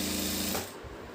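A sewing machine stitching a belt-style lehenga skirt, a fast steady mechanical whirring and rapid needle clatter that slows and stops after about half a second, close up and without voices.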